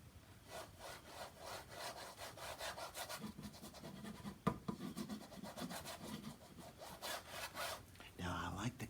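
Scratchy strokes of drawing on paper, a steady rhythmic rasp of repeated back-and-forth marks with brief pauses, close and moderately loud, ending in a short burst of rougher rubbing.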